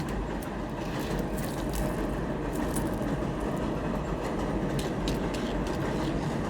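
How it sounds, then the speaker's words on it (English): A passing train gives a loud, constant broadband rumble with faint clattering, close by and without pause, and no one speaks. "Let the train go."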